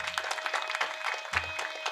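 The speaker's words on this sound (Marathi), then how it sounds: "एकदा त्यांच्यासाठी टाळ्या वाजवा" An audience at a Shivaji Maharaj Jayanti kirtan in Nashik claps together in a brief, dense burst of applause that stays fairly loud and even throughout, with no talking over it.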